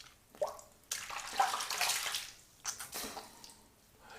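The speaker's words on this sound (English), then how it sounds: "All right, let's rinse off." Water splashes and runs as shaving foam is rinsed off a face at a sink, close soft bursts of splashing with short pauses between scoops.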